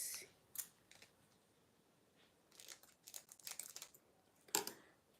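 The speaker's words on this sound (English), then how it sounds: "just fold this thread into 2, or double it, and cut" Scissors snip through a doubled length of sewing thread at a tailoring table where African print accessories are made, giving several brief, crisp cuts and rustles with quiet pauses between them.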